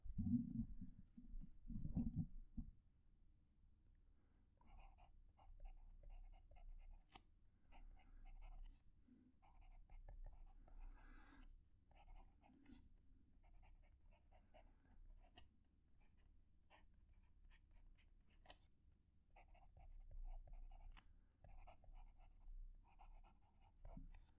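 A broad fountain pen nib, on a TWSBI Vac700R Iris, scratches steadily across paper, close and quiet, with soft continuous scraping and occasional faint clicks, no voices.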